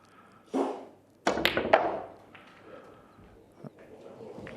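A snooker cue punches the cue ball in to cannon a red during a World Championship final, giving a few crisp, sharp ball clicks in quick succession, then a softer tap later over a quiet hall murmur.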